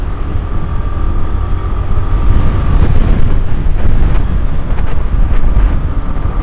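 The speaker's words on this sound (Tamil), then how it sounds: "சரியான காத்து அடிக்குது" Loud, constant wind roars and buffets the microphone of a moving motorbike on a road near Coimbatore, India, a dense rushing noise with a low engine-like rumble beneath it.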